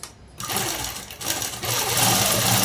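A sewing machine runs close and loud, top-stitching a diamond-shaped neckline, with a continuous mechanical whir that briefly slows before running steadily again.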